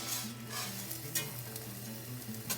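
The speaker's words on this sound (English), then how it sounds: "I'm going to come in and whisk it because I still want to reduce it some more" Seasoned gravy is whisked in a cast iron pan, giving a steady scraping, bubbling stir with faint sizzle and a few sharper clinks of the whisk against the iron.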